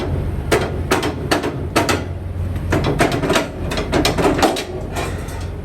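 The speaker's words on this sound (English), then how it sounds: "pull the tandem release, lock the pins in place, and we're good to go" A truck trailer's tandem release is pulled and its locking pins snap into place, giving repeated close metallic clanks and clicks in an irregular rhythm over a steady low rumble, with no voices.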